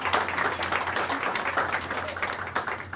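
An audience at a library grand opening applauds the YMCA staff, a dense, continuous patter of many hands clapping at steady volume throughout, with a few voices faintly mixed in.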